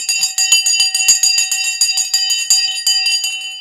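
A stock market opening bell rings continuously, a bright metallic electric ring with rapid repeated strikes sustained loudly for several seconds, alone without talk.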